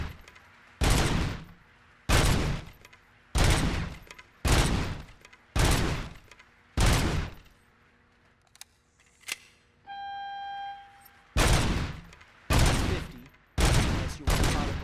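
Gunshots at a shooting range in the video game Robocop Rogue City: about a dozen loud, close, sharp reports fire in a steady rhythm, broken by a short pause with a steady electronic beep before the rapid shots resume.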